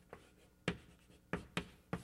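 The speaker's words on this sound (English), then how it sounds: "let me write down these remarks." Chalk or marker taps and strokes on a board during a mathematics lecture. Five faint, quick, irregular ticks sound in a quiet room with no talking.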